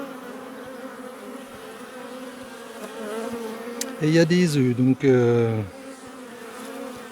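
Honeybees buzz at an open hive during a queen search, a steady low hum throughout with a louder, close buzzing pass in the middle, under French speech.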